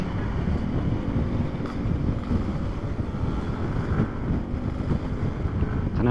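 Wind noise buffeting the microphone while riding a motorcycle from Bandung to Ciwidey, a constant loud rumbling roar with steady gusting texture throughout, no voices.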